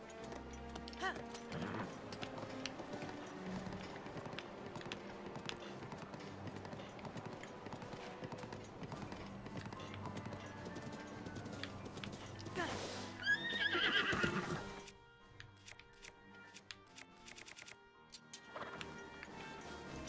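A horse in the video game Breath of the Wild clip-clops its hooves and gives a loud neigh partway through, while a person talks over the game sounds.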